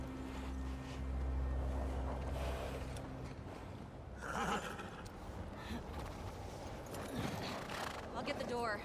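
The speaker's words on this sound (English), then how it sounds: "Poor horses." Horses in the video game The Last of Us Part 2 clop and snort amid wind and rumbling ambience, with voices talking over them.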